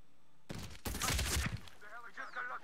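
Bursts of rapid automatic gunfire ring out in Medal of Honor Warfighter, a modern military shooter, with a loud volley in the middle and fainter sounds trailing off afterward.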